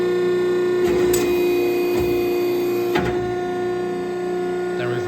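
A motorized tube bender runs a reverse cycle to return to its home position, giving a steady mechanical whir with a few sharper clunks and surges along the way.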